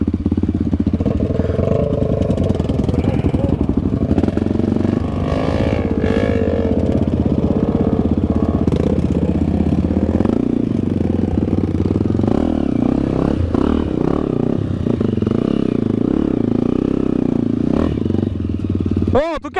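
Honda CRF dirt bike on a trail, with its engine revving and clattering close by while branches scrape, and people talk over it.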